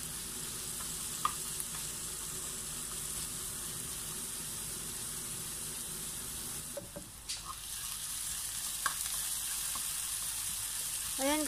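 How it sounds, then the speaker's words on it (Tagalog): Chopped onions sauté in two tablespoons of hot cooking oil in a pan with a steady, even sizzle and a few faint clicks of a utensil, with no voices. "naglagay po ako dito ng 2 tablespoon of cooking oil, and then atin po munang igigisa ang ating sibuyas ng 1 minute"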